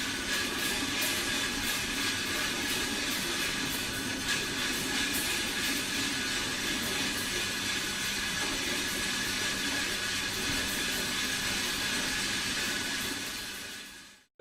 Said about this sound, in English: put playing cards into the cogs so that it creates a very loud chatter